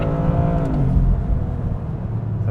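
A 2025 Toyota GR Corolla in sport mode revs hard, then its engine note drops sharply through an upshift and picks up again, loud and close from inside the cabin.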